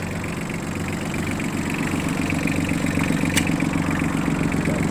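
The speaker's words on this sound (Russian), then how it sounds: "Трактор работает ровно." A Yanmar AF16 mini tractor engine idles steadily nearby, a low rhythmic putter holding an even pace with a slight rise in loudness partway through.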